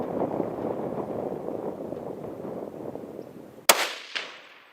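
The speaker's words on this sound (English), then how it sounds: "Good shot right behind the shoulder." A hunting rifle fires a single loud, sharp shot at a deer after steady outdoor background noise, followed moments later by a fainter second crack or echo.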